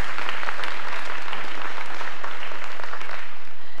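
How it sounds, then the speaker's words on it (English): A ceremony crowd gives a round of applause, dense sustained clapping from many hands throughout, loud and close, with no speech over it. "Give them another round of applause."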